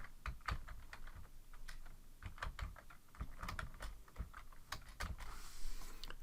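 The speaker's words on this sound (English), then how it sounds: "And then I'm just typing text." Keys clatter on a computer keyboard in uneven bursts of fast typing, close and fairly quiet, with brief pauses between runs.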